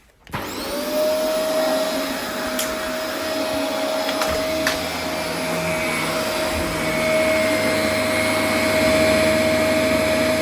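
A Dyson DC24 upright vacuum cleaner running steadily on a dusty floor, a loud close whine with a constant high tone and rushing airflow after a quick start.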